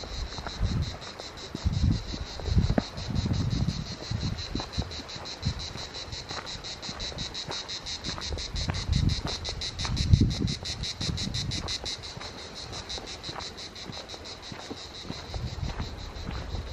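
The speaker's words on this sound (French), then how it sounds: "Juste pour le chant des cigales." Cicadas sing on the French Riviera near Île Sainte-Marguerite, a dense, shrill, rapidly pulsing drone that runs unbroken throughout with faint low rumbles beneath.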